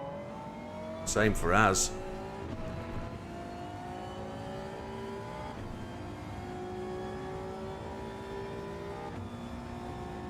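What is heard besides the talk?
race car engine in the video game Gran Turismo 7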